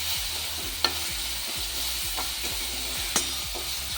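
Green chili paste stirred into spices roasting in a pan, a steady soft sizzle under scraping stir strokes, with a couple of sharp clinks from the utensil.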